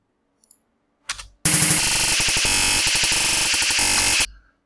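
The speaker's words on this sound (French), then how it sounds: "si j'active le stutter" Drums in a live electronic set run through a stutter effect give a loud, dense machine-gun-like burst of rapid chopped repeats lasting about three seconds, after a couple of short isolated hits and before it cuts off abruptly.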